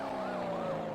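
A police car siren wails briefly, its rising and falling tone moderately near amid light traffic noise.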